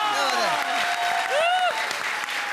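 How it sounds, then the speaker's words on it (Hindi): Loud studio audience applause at a TV comedy show, steady clapping throughout with voices and cheering calls riding over it. "जोरदार तालियां।"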